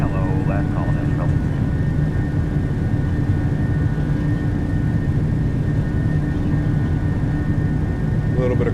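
Boeing 737-800 jet engines at takeoff power during a simulated Southwest departure from Nashville in Microsoft Flight Simulator, a loud, steady roar with constant tones. It continues without letup while cockpit voices are faintly heard at the start.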